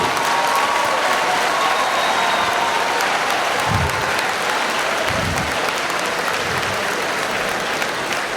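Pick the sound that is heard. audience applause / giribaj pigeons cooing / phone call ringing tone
audience applause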